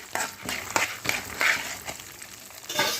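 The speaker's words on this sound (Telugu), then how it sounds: "పల్లీలు, ధనియాలు ఇది కూడా బాగా వేగాలి. వీటితో పాటే బాగా వేయించేసుకోవాలి." Peanuts and coriander seeds fry in a pan with faint sizzling and a few soft scraping stirs in short bursts, heard up close and quietly.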